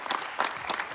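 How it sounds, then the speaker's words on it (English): Players and coaches at a minibasketball session get a short burst of clapping from a small group, uneven claps close by, with no talking over it. "Players, we give them an applaud."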